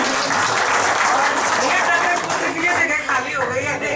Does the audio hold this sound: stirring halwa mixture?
no